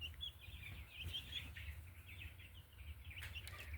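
Fifteen-day-old egg-production chicks in a pen, peeping and cheeping in a quiet, continuous chorus of high chirps over a low steady hum, fairly faint and without talk.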